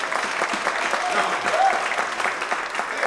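An audience at a church conference claps throughout in a dense, steady round of applause, with a voice briefly speaking over it.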